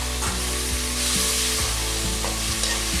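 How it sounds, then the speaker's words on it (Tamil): Three chopped tomatoes dropped into onions frying golden brown in a pan for a quail gravy set off a loud, steady sizzle with stirring scrapes, close up and with no voices. "இப்போ வெட்டி வச்ச 3 தக்காளி அதையும் வந்து ஆட் பண்ணிக்கோங்க."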